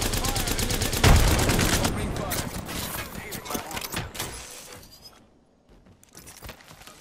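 Frag grenade burst in the Apex Legends video game, a loud blast early on amid rapid gunfire, then the battle noise tapers off to quieter game sounds.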